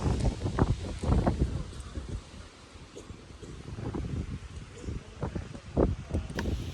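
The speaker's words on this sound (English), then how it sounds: "It is so windy, so I don't even know why I'm trying to record, because all you're gonna hear is wind" Strong wind buffets the microphone on a mountain hiking trail in the Grayson Highlands along the Appalachian Trail, coming in loud, rumbling low-frequency gusts that rise and fall across the whole stretch.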